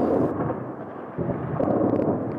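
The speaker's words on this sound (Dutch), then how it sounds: "Geweervuur en ontploffingen weer klinken onophoudelijk" Deep, booming blasts rumble through the city of Kyiv at night during the invasion, two heavy low rolls heard at a distance with faint crackling above.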